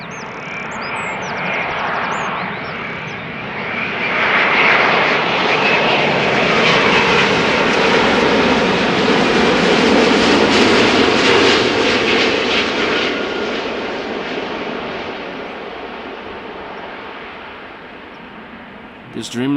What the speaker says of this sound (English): Air Europa flight 1091 arriving from Madrid, Boeing 7879 Dreamliner.